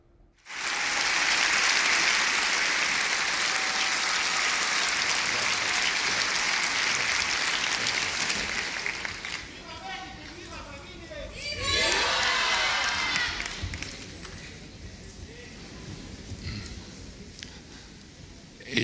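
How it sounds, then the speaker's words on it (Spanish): An audience at a poetry reading breaks into loud sustained applause with some cheering, holding strong for several seconds before fading, then a second smaller burst of clapping rises and tapers off, with voices briefly heard over it. "Estos son aplausos"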